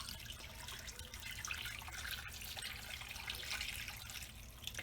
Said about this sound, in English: I have already drawn up 2 quarts of filtered water in this pitcher. I'm just going to pour it over the top.